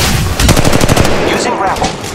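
Rapid automatic gunfire from an Apex Legends Mobile firefight, a loud, dense burst of repeated shots that rattles on for about two seconds before easing slightly.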